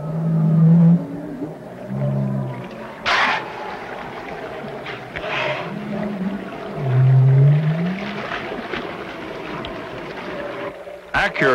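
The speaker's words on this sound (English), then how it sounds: "the bowheads make many different sounds" Low moaning bowhead whale calls rise and fall in several long swoops, recurring through the clip over a hum of water and distant boat noise.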